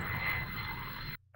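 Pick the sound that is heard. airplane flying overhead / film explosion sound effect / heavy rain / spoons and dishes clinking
airplane flying overhead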